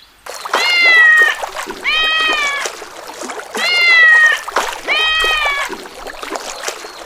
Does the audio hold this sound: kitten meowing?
yes